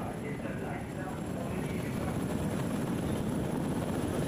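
A search-and-rescue helicopter hovers over the sea during a winching operation, its rotor and engine giving a continuous, even thrumming roar at moderate distance while a voice talks over it.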